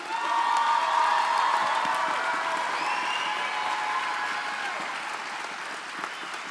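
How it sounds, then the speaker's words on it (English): Audience at a graduation ceremony applauds loudly and steadily with scattered cheers and whoops, a dense crowd sound that fades slightly over several seconds. "I want you to give them a round of applause."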